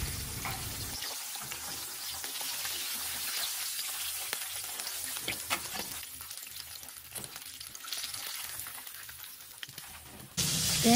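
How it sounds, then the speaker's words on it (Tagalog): Chicken pieces fry in hot oil, a steady close sizzle with crackling pops throughout, with a sharp burst of louder hissing right at the end. "Tsaka natin to iprito hanggang sa mag-golden brown itong ating chicken."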